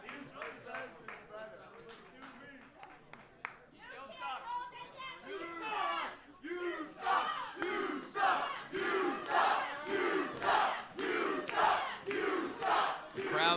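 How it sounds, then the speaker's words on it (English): A wrestling crowd at a gauntlet match jeers and shouts at a wrestler. Scattered yells at first build into loud, rhythmic chanted bursts from the packed audience. "Crowd certainly unrelenting here toward Wonderboy Brian Morris"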